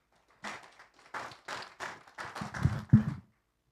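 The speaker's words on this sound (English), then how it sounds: "A round of applause for Abby." A brief round of applause at a wealth-building talent academy event in Adelaide, a small group clapping in uneven bursts for about three seconds, close and moderately loud, swelling slightly before stopping.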